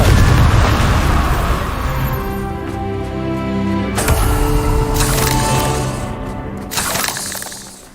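A Confringo explosion spell from Hogwarts Legacy bursts with a loud boom and shattering crash, followed by ringing tones and scattered debris hits that fade toward the end.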